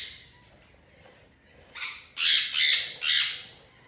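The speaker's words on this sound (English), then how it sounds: "Check out this crazy bird they've got." A crazy-looking bird squawks three times in quick succession, loud and harsh. A softer call comes just before, while cats roam nearby and a boatyard hauls out a hull.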